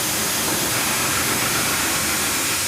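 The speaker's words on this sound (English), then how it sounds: "to the sight of a loco wreathed in curling steam." A steam locomotive hisses loudly and steadily, a dense continuous rush of escaping steam with no breaks, close and alone.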